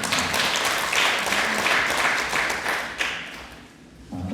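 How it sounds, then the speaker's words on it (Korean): A church congregation applauds a youth choir at an evening worship service, a brisk burst of clapping from a crowd that fades toward the end. "우리 애쓴다고 한 번 더 격려의 박수 하겠습니다."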